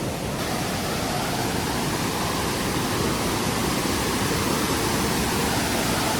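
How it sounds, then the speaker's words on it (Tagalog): A waterfall pouring into an underground river inside Huanglong Cave in Zhangjiajie, Hunan, China, a loud, steady, broadband roar of rushing water that fills the space without pause. "Ayan may falls."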